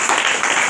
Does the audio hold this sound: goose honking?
no